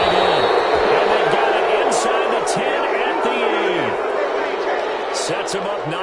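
Stadium crowd in a PS4 American football game, a steady dense roar of cheering fans filling the background, with a play-by-play commentator talking over it throughout.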